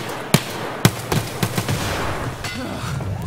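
A grenade going off in Escape from Tarkov: a few sharp, close blasts and crackling pops in quick succession over a noisy rumbling background, no talking.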